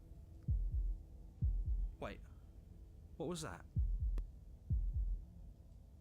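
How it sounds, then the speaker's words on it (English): A slow heartbeat in a video game, deep paired thumps repeating about once a second and standing clear of a quiet background, while a voice speaks briefly between the beats. "That was the sound of a heartbeat"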